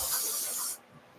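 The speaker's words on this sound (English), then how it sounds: "I got to spray some release agent into the mold real quick." Aerosol can spraying mold release agent into a casting mold, a steady close hiss lasting under a second before cutting off, leaving quiet room tone.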